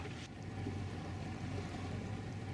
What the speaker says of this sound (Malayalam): നേരെ മുന്നോട്ട് കൊണ്ടുചെന്നാണ് ഇവിടെ ബോട്ട് അടുപ്പിക്കുക